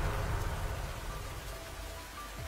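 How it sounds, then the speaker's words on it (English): Steady rain pours onto a miniature jungle terrarium, a dense continuous patter and wash with a low rumbling undertone, close and even throughout. "Rain fell on this tiny world, each drop hitting the ground like a drumbeat."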